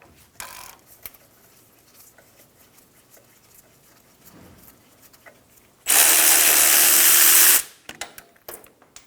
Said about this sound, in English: Using a 17mm socket, remove the caliper bolts.